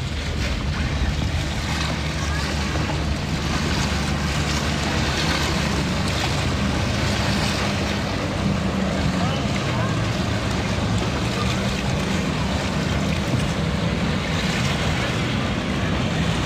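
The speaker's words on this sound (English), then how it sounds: "Okay, the boat's coming" A boat moves across open water, its steady low engine drone mixing with waves, surf and wind buffeting the microphone; the rumble holds constant and fairly loud throughout with no clear voices.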